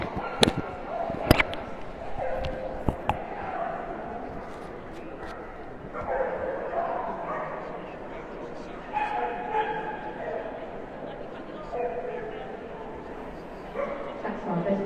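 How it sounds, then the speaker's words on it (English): A beagle at a hound group dog show gives a few sharp, close barks and yips early on, followed by softer whimpers amid crowd noise and talking in the main ring. "As we just see the beagle going through his paces."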